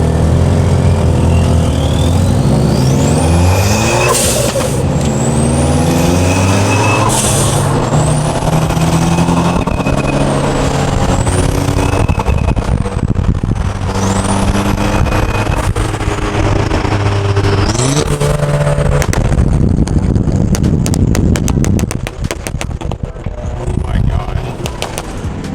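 A modified Subaru STI with a loud exhaust drives past or pulls away, its engine roaring and revving hard with rising whistling tones and crackling pops. The sound is loud and close, and the engine note drops away sharply near the end.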